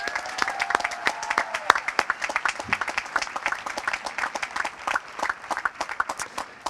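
Audience at the Mount Si High School class of 2017 graduation ceremony breaks into scattered, moderately loud clapping, individual claps distinct and irregular throughout, with a faint voice briefly audible early on.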